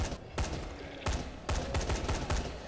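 Bursts of assault rifle fire in the zombie game Dying Light, several sharp volleys in an irregular rhythm, loud and close, with no talking.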